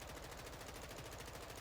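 Rapid automatic gunfire in the video game Modern Warfare 2, a fast, even stream of shots held steady and fairly faint throughout, with no talking.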